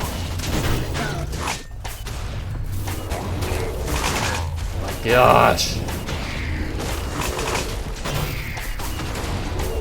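Minecraft Dungeons combat fills the scene with rapid clicks, creaks and thuds of arrows firing, plus a sharper burst near the middle as an explosion goes off, while a player talks briefly over the busy game noise.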